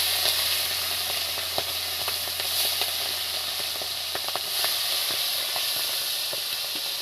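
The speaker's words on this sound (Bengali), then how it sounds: "এবার এই যে হলুদ আর নুন মাখা আছে চিংড়িগুলো এর মধ্যে আমি দিতে থাকবো" Turmeric- and salt-coated shrimp frying in a little salted oil in a kadai give a steady close sizzle with scattered crackles and pops throughout, no voices.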